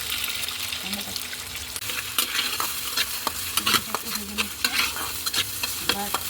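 Egg frying in a pan at home, with a continuous sizzle broken by frequent clinks and scrapes of a utensil stirring against the pan, close and fairly loud, no voices.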